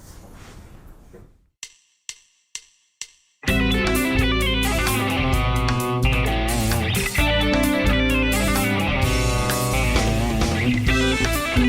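Electric guitar plays a fast A Dorian fusion lick at full tempo over a backing track, opening with a few sparse plucked notes before the band and lead kick in loud and dense, continuing steadily to the end.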